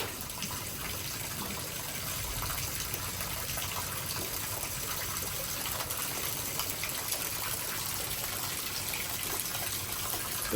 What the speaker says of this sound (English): The gutter rain's still overflowing.